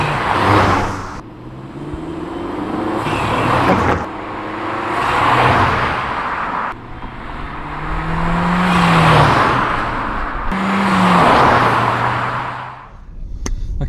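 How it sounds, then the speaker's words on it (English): A SEAT Leon 1.4 TSI with an upgraded intake and air filter makes repeated drive-bys, its engine swelling and fading as it passes at a distance several times, with audible turbo flutter as the throttle lifts. "About to get some drive-by shots of the Leon, and it sounds so sick driving"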